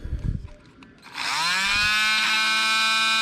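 A power drill spins up and runs steadily while boring into a metal axle for an MN90 model, a rising whine settling into a sustained, fairly loud tone that drowns out a faint voice heard beforehand.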